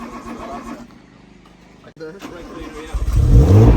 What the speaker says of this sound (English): It looks like that car might be starting in a second.